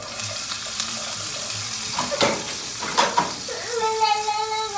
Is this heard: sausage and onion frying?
yes